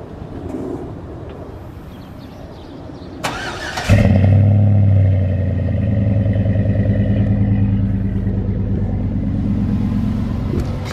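Pickup truck cold start: a few seconds of quiet rumble, a short whirring crank, then the engine catches with a loud roar and settles into a steady, close idle.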